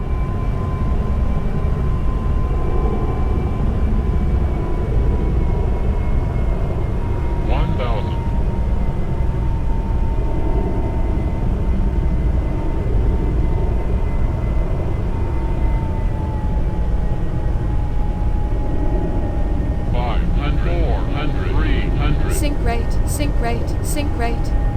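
Steady jet engine roar of an F4 Phantom in the X-Plane 11 flight simulator, approaching a runway at Paro, Bhutan, holding a constant drone throughout with brief electronic beeps and cockpit tones near the end.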